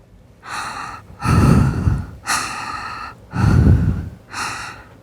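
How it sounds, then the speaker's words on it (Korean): Heavy, exaggerated breathing close to the mic from a stage monologue performance, alternating short sharp inhales with longer raspy exhales, about five breaths in a slow rhythm with no talking. "숨소리부터 들어주세요"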